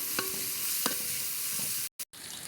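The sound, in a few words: crushed garlic and onion frying in oil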